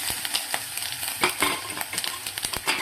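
Mustard seeds and crushed garlic crackle and sizzle in hot oil for a Tamil tomato thokku, with quick popping bursts over a continuous hiss, close and fairly soft.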